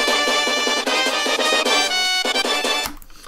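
Bright chiptune-style melody with stacked octave layers, steady and loud, playing alone before cutting off near the end.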